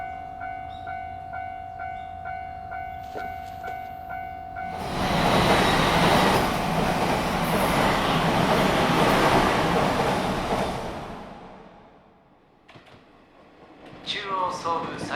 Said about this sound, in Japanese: 中央総武最終電車東京行きが到着します。